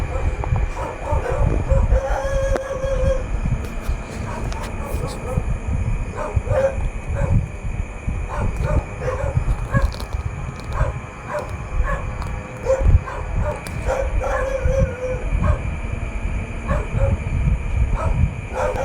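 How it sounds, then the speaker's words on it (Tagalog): A dog barks loudly at night outdoors, a steady run of repeated barks under a constant low rumble of background noise, with voices faintly present. "nakagising kami mag-asawa dahil sa lakas ng kahol ng aso"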